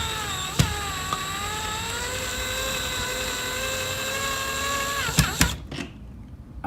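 A power drill drives a screw into a ceiling fixing while a Hyperikon LED garage light is being installed, giving a steady high motor whine for about five seconds, close and loud, before it cuts off with a couple of sharp clicks.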